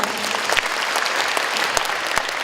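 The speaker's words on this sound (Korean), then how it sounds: "박수 한번 부탁드립니다" An audience at a large citizens' town-hall forum in Ansan claps steadily for a high school student, dense applause with a few sharper individual claps standing out near the front.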